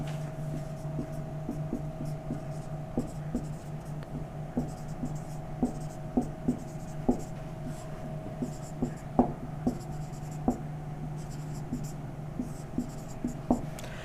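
Chalk or marker writing on a board during a maths lesson on averages, with repeated short scratchy strokes and taps across the whole stretch, close and steady beneath a faint electrical hum.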